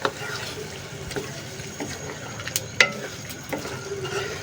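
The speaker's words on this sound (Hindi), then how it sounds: "हमने मटन को अच्छे तरीके से भूनना है इसके अंदर" Mutton browning with yogurt in a pot gives off a low, steady sizzle and bubbling, with occasional spoon scrapes and clinks against the metal close by; no one speaks.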